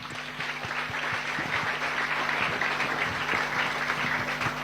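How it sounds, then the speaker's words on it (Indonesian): An audience at a religious lecture claps, a sustained, dense patter of hands, moderately loud, with a steady low electrical hum beneath it and no speech. "Tepuk tangan."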